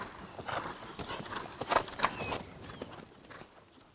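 A horse canters around a riding arena, its hooves thudding in an uneven three-beat rhythm on the soft ground at moderate distance, with faint creaks and a brief high squeak among the strides.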